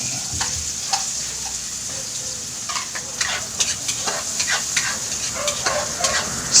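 Garlic and onion fry in a pan while being stirred, giving a steady bright sizzle with intermittent scraping clicks from the utensil, close and moderately loud, with no speech.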